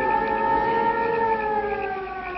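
An ambulance siren wails loudly and steadily with a slowly wavering pitch, alone with no talk over it.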